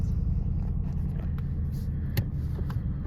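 A car idles and is moved in a driveway, a low steady rumble of the engine with a few small clicks and knocks over it, close and unbroken.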